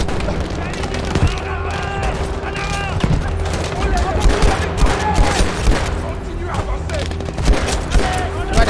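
Gunfire in the World War II shooter Battlefield V, a loud, dense battlefield of steady automatic fire and shots layered with explosions, with voices talking over it.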